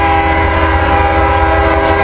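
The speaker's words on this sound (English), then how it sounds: "Got another train coming, folks." A large freight train rolls past a rail diamond crossing at close range with its horn blaring, a loud sustained tonal blast over the heavy rumble of the cars.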